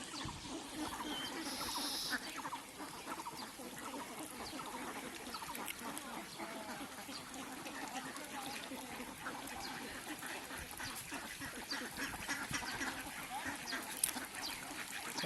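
Ducks quacking by a pond, scattered quacks over a constant faint outdoor background, fairly distant and quiet throughout.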